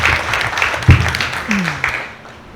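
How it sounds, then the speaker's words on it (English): A short round of applause at a boxing press conference, a few seconds of scattered clapping that fades toward the end. "Let's get a round of applause for these guys."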